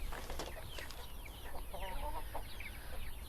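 Two yellow hens and a red rooster clucking softly in a backyard coop with chicks, scattered short clucks and calls at low level over steady background hiss.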